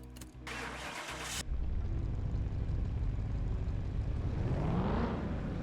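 A V8 engine in Car Mechanic Simulator 2021 starts up on a dyno, a short burst of cranking giving way to a steady, loud running drone that rises toward a rev near the end.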